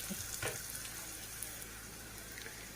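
Ginger-garlic paste fries in a pan with a faint, steady sizzling hiss and a few soft pops near the start, heard alone and at low volume.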